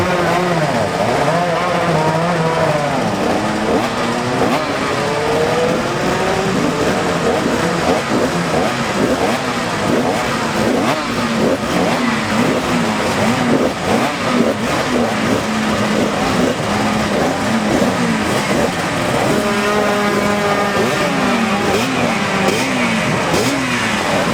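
Yamaha racing motorcycles at the Senior Classic TT roar past one after another, engines revving and shifting through gears with rising and falling pitch, loud and continuous throughout.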